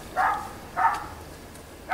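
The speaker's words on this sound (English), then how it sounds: "And puppy dog is going." A dog barks indoors in a craft room, three short sharp barks spaced about a second apart at moderate distance, with no talking.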